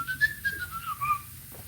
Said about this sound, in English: What I've been whistling is the scene with the scarecrow, his little song